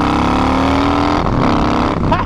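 A Harley-Davidson FXDLS motorcycle accelerating: a loud, close engine roar with rising pitch that shifts midway, sustained throughout.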